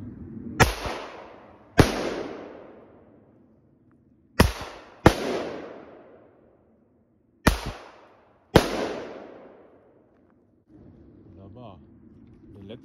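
Six sharp, loud blank cartridge shots fired from a Walther P22 pistol, each a crisp crack with a decaying echo, spaced unevenly a second or more apart, followed by quiet.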